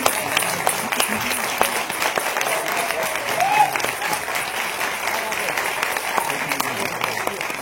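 Audience applause for the Shri Devi Mauli Dashavatar troupe at a trailer launch, a steady, dense wash of clapping from a crowd that holds throughout with little variation.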